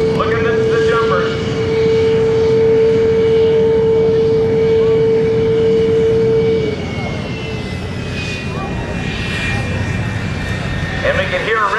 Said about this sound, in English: his howl of that J-7 jet engine